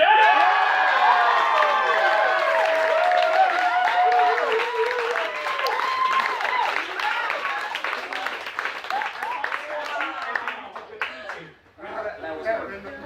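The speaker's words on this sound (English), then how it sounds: "Round of applause for" An audience at a live improv comedy show in a coffee shop claps and cheers loudly and continuously, then the applause thins into scattered claps and voices.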